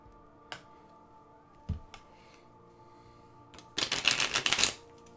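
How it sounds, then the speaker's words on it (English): Tarot cards being shuffled: a few isolated taps and clicks, then a quick burst of rapid riffling near the end, close and fairly loud against a quiet background. "I'm just shuffling."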